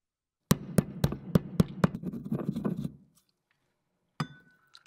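Vitamin C pills crushed up close: seven sharp, evenly spaced knocks, then about a second of gritty grinding and scraping, and after a short silence one lone clink.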